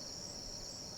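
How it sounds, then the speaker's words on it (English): Crickets chirping at night in a steady, dense high-pitched trill that runs unbroken and fairly loud, with a faint low rumble of a distant train underneath. "You can hear the crickets going crazy"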